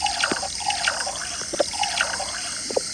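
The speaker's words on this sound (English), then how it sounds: "Can I drink some lemonade? Okay. Lemonade coming up." Lemonade pours into a glass with a light, trickling splash, scattered drips and small bursts over a steady wash of liquid, close and fairly quiet, with no talking.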